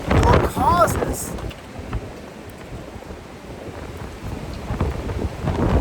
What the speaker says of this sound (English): Oh, hear that wind.